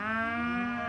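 Cattle trapped inside an overturned big rig on a highway interchange, one sustained low moo that holds steady for nearly a second, fairly close and clear.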